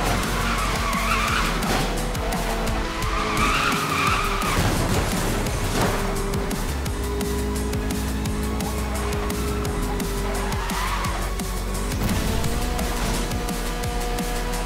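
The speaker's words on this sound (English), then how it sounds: "now we do some more drifting" An Alfa Romeo 4C Concept drifting in Need for Speed: Most Wanted (2012) screeches its tires in long, sustained skids over a steady engine drone, loud and close, with the squeal swelling and easing several times.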